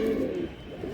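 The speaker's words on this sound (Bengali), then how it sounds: "গোল্লা কবুতর ভাই, শ্যাডেল রাজগোল্লা" A Shadel Rajgolla pigeon gives a soft, close coo, a low mellow hum that rises and fades within a second, with no other sound around it.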